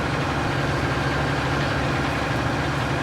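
A fast tractor engine in a video game drones steadily at high speed, a constant, dense mechanical hum and vibration with no pauses or speech.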